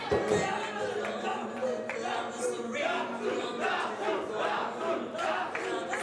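A wrestling event audience chants and cheers in rhythmic bursts, a large crowd roaring at moderate distance with voices rising and falling.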